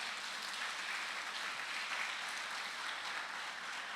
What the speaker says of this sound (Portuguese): Pode aplaudir Jesus mais uma vez?